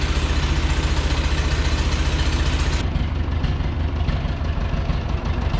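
A Ferguson TO20 tractor engine, long unused and still crusty, idles steadily with a low, even rumble and rhythmic chugging, loud and close throughout with no talking.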